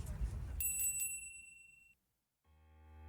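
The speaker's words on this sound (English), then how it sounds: "The bell hanging from the door welcomes us inside as we step into the familiar shop full of flowers and greenery." A chiming shop door bell rings in a video game as the door swings open into a flower shop, several bright ringing strikes that fade, followed by a brief silence and then a soft low ambient hum.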